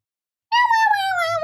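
A person imitates a cat's meow, one sustained, slightly falling mew-like cry that starts abruptly after silence and carries on to the end, close and fairly loud.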